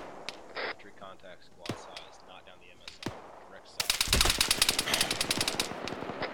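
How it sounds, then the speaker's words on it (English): Machine gun fire in a squad training game, sparse single shots first, then a loud sustained burst of rapid automatic rounds close by, with voices talking in between. "God damn, that MG gunner's got us pinned."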